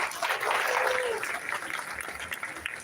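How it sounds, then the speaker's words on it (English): A convocation audience gives a round of applause for a guest of honor, a managing director. The clapping is moderately loud at first and fades, with a voice audible beneath it. "Give a round of applause to him."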